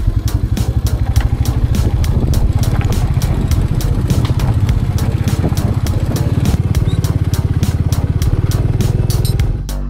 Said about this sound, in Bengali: আর এখানে রয়েছে আমার বাইক রয়্যাল এনফিল্ডের ক্লাসিক 350